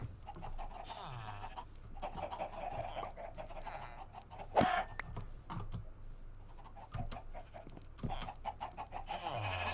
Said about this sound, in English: Some of our chickens got free.